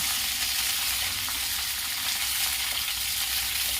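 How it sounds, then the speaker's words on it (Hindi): Mixed vegetables fry steadily in a pan, a dense, even sizzle that holds loud and close throughout with faint stirring scrapes underneath and no talking. "इसे अच्छी तरह फ्राई करूंगी। इसे बिल्कुल अच्छी तरह फ्राई करूंगी।"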